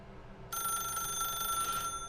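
A telephone rings steadily in The Stanley Parable: Ultra Deluxe, a bright electronic bell tone that starts abruptly and sounds alone with no voices.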